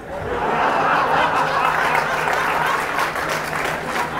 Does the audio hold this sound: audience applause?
yes